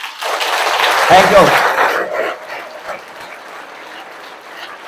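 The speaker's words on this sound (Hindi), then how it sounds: "तालियों को छुपा कर नहीं, बल्कि दिखाकर बजाना चाहिए।" An audience at a motivational talk claps continuously in a dense, loud wash that gradually fades, while someone speaks briefly over it.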